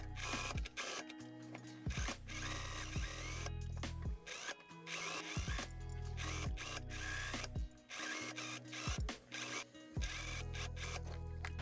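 A sewing machine stitches two winter coat pieces together with a loud, steady mechanical whirr. Brief stops and restarts recur every couple of seconds.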